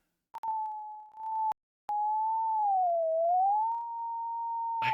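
Synthesized music generated by a Python program using the Pyo module: a steady pure electronic tone that holds, breaks off briefly, then returns with a slow gliding wobble in pitch, loud and alone with no talk.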